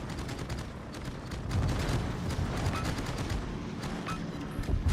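Torpedo hits exploding against a ship in World of Warships, a dense run of booming blasts and crackling impacts rolling over about five seconds, loud and continuous with no pause.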